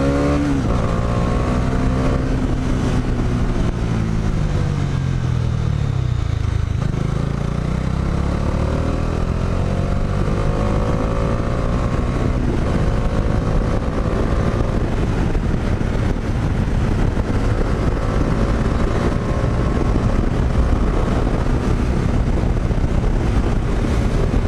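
Bajaj Dominar 400 motorcycle on the move, its engine note rising and falling steadily through gear changes, with constant wind rush over the microphone throughout.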